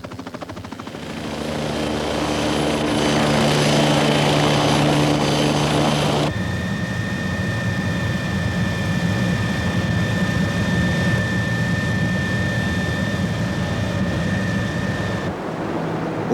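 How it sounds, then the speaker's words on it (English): A Canadian Coast Guard helicopter's engine and rotors roar steadily at close range at a lighthouse, a loud continuous whine and thrum throughout. "the helicopter of the Canadian Coast Guards drops off one of the keepers starting duty"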